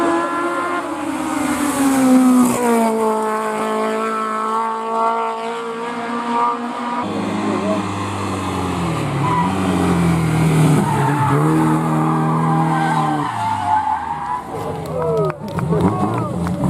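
A V8 race car at a French hill climb, engine loud and revving up and down with rising and falling pitch and skidding tires, as a commentator talks over it throughout.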